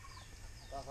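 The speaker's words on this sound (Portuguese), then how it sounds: "Ó, tem mais um peru ali, rapaziada." A turkey calls at a rural farm in Paraná beside a small lagoon, a faint distant gobbling warble at the end of the clip over steady outdoor background noise.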